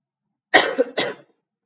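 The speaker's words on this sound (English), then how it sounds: "Sorry if you hear my cough." A person coughs twice in quick succession, a harsh close burst followed by a shorter second one, then silence.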